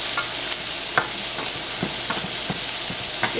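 Onions and garlic frying in a pan for a beef stew with green chilies and pinto beans. A spatula gives several quick, close scrapes and stirs over a steady sizzle, with no voices.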